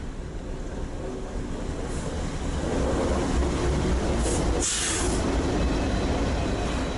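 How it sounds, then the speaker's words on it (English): A Norfolk Southern freight with a Dash 9 and SD70M-2 locomotive pulling intermodal cars rolls past a station at dawn: a steady loud rumble of wheels on rail with a brief high squeal. "a Dash 9 and SD70M-2 pass the station with an intermodal"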